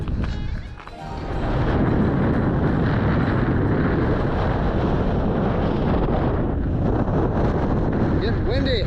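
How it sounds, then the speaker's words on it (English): Wind roars steadily across the microphone on a hike up the Juniper Trail on Mount Diablo, California, as a loud, continuous broadband rush that begins after a brief dip and continues unbroken. "Getting windy."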